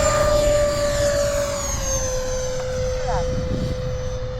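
A model F-4 Phantom II jet on the ground after landing throttles up, its turbine whine holding a strong steady tone over a broad roaring rush, close and loud, while a voice talks over it.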